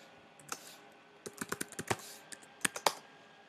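Someone types a password on a MacBook Pro keyboard, a quick irregular run of soft, close key clicks in a quiet room.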